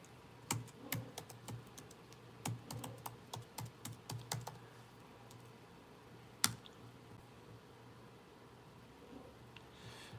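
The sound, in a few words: typing on a computer keyboard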